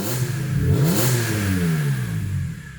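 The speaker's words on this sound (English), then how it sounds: "you can kind of tell it's a little bit more raspy, higher pitched, kind of like a lot of M3s are like this" A lowered BMW's engine revs up and falls back close by, a raspy, high-pitched rise and dip that stays loud across nearly three seconds with no talking.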